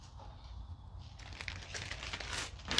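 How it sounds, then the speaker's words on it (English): Plastic pond liner being opened and unfolded, giving soft, irregular crinkling and rustling that grows louder and busier toward the end, close by with no talk. "So we're going to start with by opening up our pond liner."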